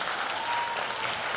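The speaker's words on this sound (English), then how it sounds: "Show me by your applause." An audience at an elementary school ribbon-cutting in the auditorium breaks into brief, loud, dense applause, a continuous crackle of many hands.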